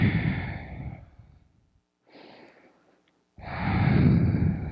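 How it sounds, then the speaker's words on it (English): Deep, slow breathing during a yoga stretch in a chair-based session, a long audible exhale, a softer breath, then another strong breath, close and clear with no talking. "So let's take a couple breaths here."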